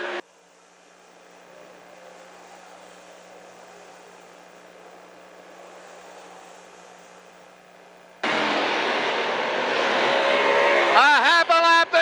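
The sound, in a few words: race cars racing on track, final laps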